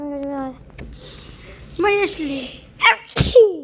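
Someone sneezes sharply a couple of times near the end, after a short stretch of a voice talking and game sounds.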